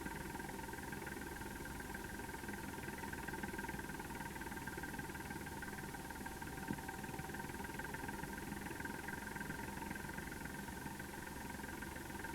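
A Caterpillar diesel tractor hauling a heavy load across snow-covered roads and Arctic wilderness in winter drones steadily and continuously, a loud, even engine rumble with no talking.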